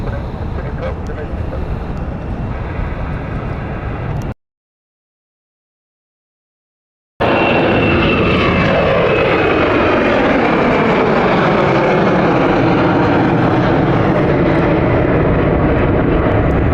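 An airplane on the Geneva flight at London City Airport roars loudly and steadily, cuts out to silence for about three seconds, then returns as a close, powerful rush whose pitch sweeps down as it passes.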